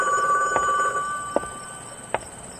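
A telephone rings inside a motel honeymoon suite in a radio drama, a steady electronic trill held near and fairly loud over a quiet room, broken by a few soft knocks or footsteps.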